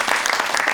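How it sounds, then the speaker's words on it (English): A short, loud burst of audience applause for volunteers at a magic show, dense and continuous clapping with no voices over it. "A nice round of applause for these"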